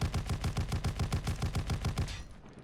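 Einhorn shotgun in COD Mobile firing a rapid burst of about ten loud, evenly spaced blasts, each with a booming low thump, ending abruptly with a short fading tail.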